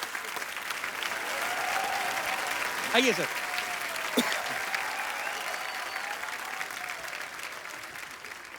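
Enthusiastic studio audience applause on a comedy talk show, continuous clapping throughout, briefly overlaid by a host's voice and a couple of sharp shouts or whoops before the clapping continues at a steady level.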